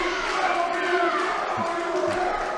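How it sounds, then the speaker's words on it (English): Crowd noise at an indie wrestling show by Imperial Wrestling Entertainment: a steady, dense murmur of fans filling the venue with no single standout cheer. "looking to hear some crowd noise"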